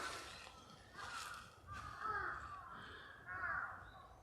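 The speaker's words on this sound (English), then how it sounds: "Maybe these crows are nesting somewhere." Several crows caw in a quiet outdoor setting, with harsh calls rising around a minute's worth of bird noise, some closer and some farther off, over low background rumble on a mountain trail near old castle ruins in Japan.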